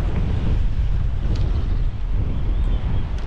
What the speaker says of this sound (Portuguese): Ventando bastante, bastante mesmo.